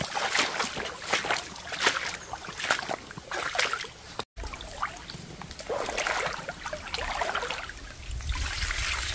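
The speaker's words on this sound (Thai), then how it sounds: "มองน้ำไหลนั่นนะครับ" Water trickles and splashes continuously nearby, a restless gurgling flow with a brief dropout partway through.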